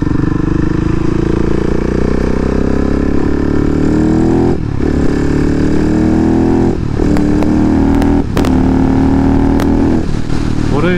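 KTM SMC R single-cylinder motorcycle engine while riding, a loud steady drone close to the mic with rising and falling pitch as the rider works the throttle and shifts gears, no talking.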